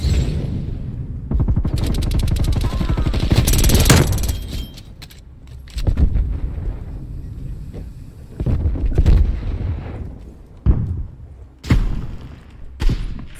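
Gunfire and sniping in the video game Call of Duty: Black Ops Cold War: loud, close bursts of rapid automatic fire, then scattered single sharp shots and thuds separated by short pauses.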